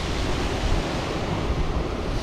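Sea waves wash against the rocky coast at Ap Lei Chau, Hong Kong, a dense steady roar of surf mixed with wind buffeting the microphone, continuous and fairly loud with no voices.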